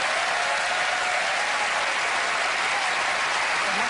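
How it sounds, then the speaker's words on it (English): A television magic show's studio audience gives a steady wash of applause, dense and even from start to finish, with no speech breaking through. "Give her a round of applause"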